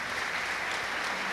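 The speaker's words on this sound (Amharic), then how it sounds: "ለሜቲ አጨብጭቡላት" Audience applause for a young woman named Meti at a Christian worship gathering: a dense, steady wash of many hands clapping together, sustained at an even level throughout before cutting off abruptly at the end.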